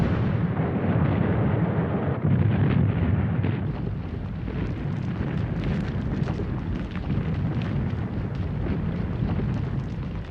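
Heavy artillery fire and explosions from the German army's advance across neutral Belgium in a World War I documentary: a continuous loud rumble of blasts and bursts, dense and low, with no talk.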